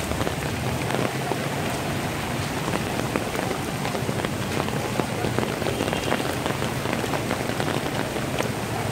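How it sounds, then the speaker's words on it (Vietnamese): Heavy rain pours steadily on a street in Saigon, a dense continuous hiss of drops hitting surfaces with no pauses and no voices. "Mưa quá."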